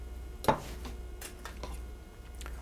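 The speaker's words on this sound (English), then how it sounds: "there are my vegetables chopped" A knife strikes a cutting board while chopping vegetables for mulligatawny soup, one firm close chop followed by several lighter, irregular cuts, with no voices.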